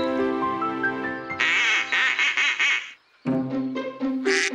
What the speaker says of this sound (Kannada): ಆ ಶಬ್ದನ ನಾವು ಕ್ವಾಕಿಂಗ್ ಅಂತೀವಿ ಚೂಚು